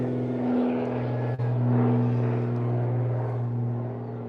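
A low, steady drone of an airplane passing overhead holds throughout with a constant hum and a broad rumble, loud and continuous with no talking over it.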